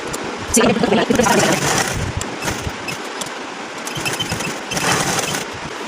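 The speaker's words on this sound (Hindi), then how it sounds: "तो अब हमने यहाँ राउंड शेप में सिलाई लगानी है।" Sewing machine stitching a round neckline on a frilled collar, running in short whirring bursts with pauses as the fabric is turned, close and fairly loud with a voice speaking over it.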